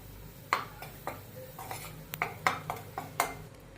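Gram flour stirred into melted ghee with a metal spoon in a pan for rava barfi, a series of sharp clinks and scrapes against the pan at an irregular pace, fairly quiet and close.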